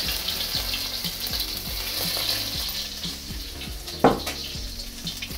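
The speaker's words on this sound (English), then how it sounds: "Spread the oil around and throw in my chili and garlic." Chili and garlic frying in a few tablespoons of oil for a Thai clam stir fry: a steady, close sizzle with a low rhythmic hum beneath and one sharp clack near the end, no talking.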